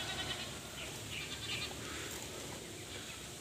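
Goats bleating on a farm, several animals calling off and on over a steady, faint outdoor background with no talk.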